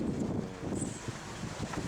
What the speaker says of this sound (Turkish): Çok rüzgar var dostlar.